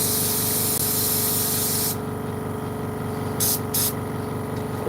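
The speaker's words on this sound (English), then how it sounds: "I might just give it a wee blast with brake cleaner in here or something." Brake cleaner is blasted from an aerosol can into a DeWalt or Milwaukee power tool under repair, a loud close hiss lasting about two seconds, followed by a steady mechanical hum and two short bursts of spray.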